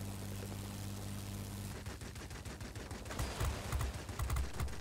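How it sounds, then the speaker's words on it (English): Aircraft guns firing at bombers from a Chinese IL-10M ground attack plane in World of Warplanes, heard as a dense, rapid rattle of shots over steady engine drone, growing louder toward the end. "I can actually pull up and shoot at their bombers as I go underneath"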